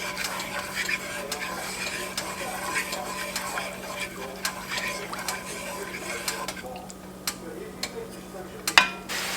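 Red-eye gravy with bits of country ham being stirred in a pan, a spoon scraping the bottom in a steady run of soft clicks and scrapes over a low sizzle, with one sharper knock near the end.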